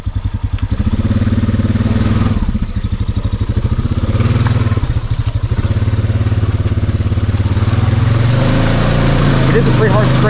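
A 2021 Honda Rubicon ATV on Outlaw 2 tires churns through a mud hole in four-wheel drive, its engine loud and close with rising and falling revs and splashing clatter; a rider talks over it.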